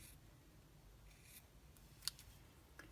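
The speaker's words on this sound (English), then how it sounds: "I'm just literally going to snip" Craft scissors snip while making a Stampin' Up 3D advent hanging tree pouch, with one short, crisp cut and a fainter second one in an otherwise very quiet room.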